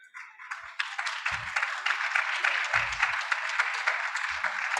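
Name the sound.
audience applause at conference pavilion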